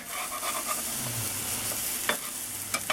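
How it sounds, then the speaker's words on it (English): Eggs fry in a pan for a sausage, egg and kale breakfast burrito, giving a soft continuous sizzle with a few light clicks of stirring near the end, close and quiet. "While it's cooking on that side, giving it a chance to make sure all the eggs cook all the way through"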